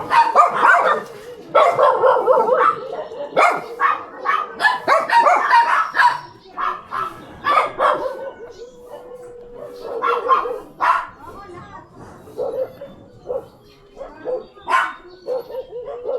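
Several dogs bark and yip repeatedly in bursts, fairly close, with people talking in Filipino over and between the barks during a free anti-rabies vaccination drive in Cabanatuan City, Philippines.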